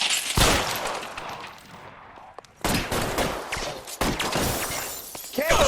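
Gunfire in the crime video game L.A. Noire: loud bursts of shots and shattering impacts that come in separate volleys, with a short lull between them and dense echoing clatter.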